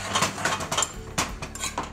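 A spoon scrapes and clanks against a pan while drained al dente orecchiette is stirred in with bacon and peas, giving close, irregular metallic knocks with no talking.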